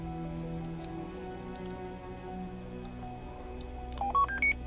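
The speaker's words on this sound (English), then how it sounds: "call his phone number right now while we're here" Telephone keypad tones beep in a quick stepped run of four or five DTMF presses near the end, dialing a number over a steady low background hum.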